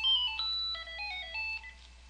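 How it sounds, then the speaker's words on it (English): A phone ringtone plays a short melodic sequence of electronic beeping tones, stepping up and down in pitch at a steady pace, clear and alone over a faint low hum. "Is that the phone?"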